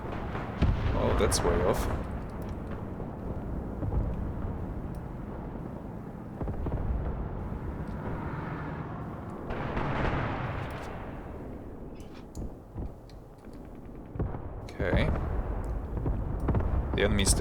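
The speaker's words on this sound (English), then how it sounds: "Artillery strike." Artillery shells strike in the WWII tactics game Graviteam Tactics: Mius Front, heavy booming blasts and rumbling bursts arriving in clusters, loud then fading, with someone briefly talking between them.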